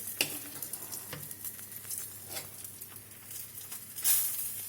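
Egg frying in a pan to go with instant noodles, a steady close sizzle and crackle with occasional sharper pops, and one brighter hissing burst near the end.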